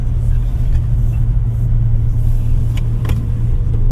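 Cabin drone of a 2025 Suzuki Fronx with a 1.5 liter inline-4 mild hybrid engine while driving, a steady low rumble and road noise, with a few light clicks near the end.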